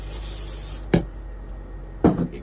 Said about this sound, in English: Alright, spray a little silicone.